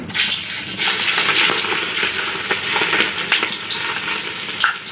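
Steady, loud sizzling of chopped garlic and nigella seeds frying in hot oil, with crackles and pops throughout and a few faint stirring clinks.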